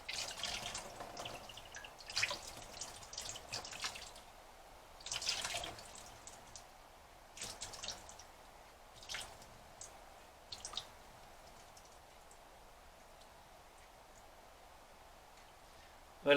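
Water trickling and dripping from a glass jar of wet seeds, with scattered soft drips and splashes in short bursts during the first half, then fading to near silence.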